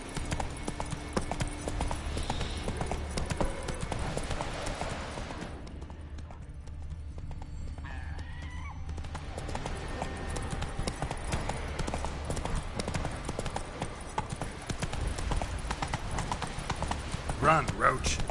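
The horse Roach gallops with rapid, rhythmic hoofbeats, close and steady, dipping briefly before resuming at full pace, while a voice speaks over it.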